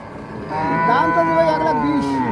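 Holstein Friesian cow lowing loudly and close by at a busy cattle market, one long drawn-out moo that rises and bends in pitch over a steady background murmur.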